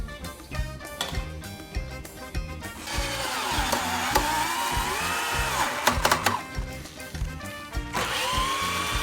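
A power drill drives screws into 2x6 boards for a raised garden bed outdoors, whining motor bursts rising and falling in pitch over steady background noise, with knocks between runs.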